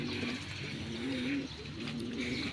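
Pigeons coo in a loft, several low throaty calls repeating close by in a continuous murmur with no talking.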